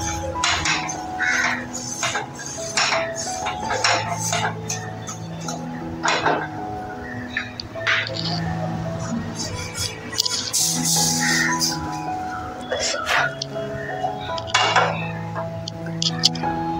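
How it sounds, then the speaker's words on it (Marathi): Roasted semolina is moved into another pot, giving repeated metallic clinks and scrapes of a utensil against cookware, spaced irregularly at close range with a voice talking over much of it. "आता भाजलेला रवा आपण दुसऱ्या भांड्यामध्ये ट्रान्सफर केलाय।"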